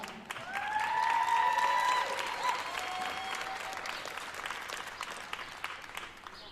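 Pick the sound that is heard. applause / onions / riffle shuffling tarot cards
applause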